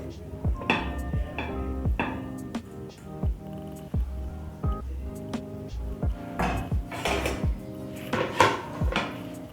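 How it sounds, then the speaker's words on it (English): Cooked fried eggs are moved onto a plate in a kitchen, with a steady run of close clinks and scrapes of a utensil against the plate and pan, some louder knocks mixed in. "I'm going to put my eggs on a plate."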